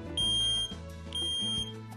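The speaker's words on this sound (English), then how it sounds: "Test your smoke alarm right now." A smoke alarm being tested gives two loud, shrill electronic beeps, each lasting about half a second, with a short gap between them and a low hum underneath.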